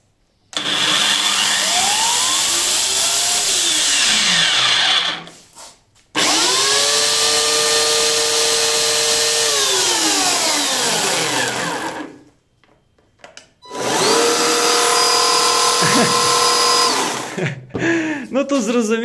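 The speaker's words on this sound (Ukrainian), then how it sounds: "ми по черзі зараз включимо кожну пилу" Electric chain saws from GTM, including a battery-powered one, are switched on one after another: three long, loud whining runs separated by short silences, each with rising and falling pitch, ending with a brief sputter.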